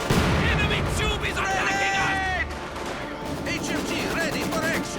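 An MG42 machine gun rattles alongside artillery fire in a WWII strategy video game, with dense bursts of gunfire early and a steady roar of battle throughout, mixed with in-game voices.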